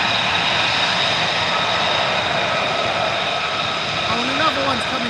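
F-35 fighter jets at RAF Lakenheath give a steady, distant jet-engine roar with a high whine, and a voice speaks briefly toward the end.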